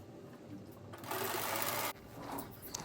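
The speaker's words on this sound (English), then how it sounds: "back over to my sewing machine and continue on with chain piecing" A sewing machine chain piecing quilt pieces runs in a short, steady burst of stitching, preceded and followed by quieter handling noise, close and clear with no voices.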